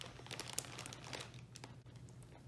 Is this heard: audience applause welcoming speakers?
no